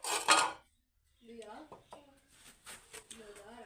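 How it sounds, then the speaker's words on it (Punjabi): A metal thali plate clatters loudly once while parathas are being cooked in a home kitchen, a sharp clanging burst followed by quieter kitchen sounds and a voice speaking nearby. "ਥਾਲੀ ਦੇ ਰੱਖਣ ਨੂੰ ਥਾਂ ਲੱਭਣ ਡਿਆ"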